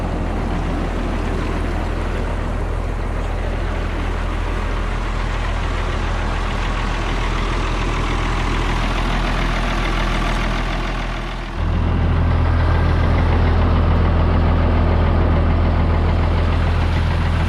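A heavy diesel tractor engine idles steadily and loudly outdoors in wet conditions, its low rumble deepening slightly partway through, with no one talking.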